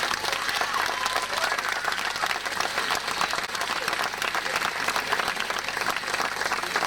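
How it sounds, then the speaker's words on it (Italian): Steady, dense applause from a live audience at an Italian comedy show in Rome, loud and continuous throughout with a faint murmur of crowd noise underneath. "un grande applauso a loro."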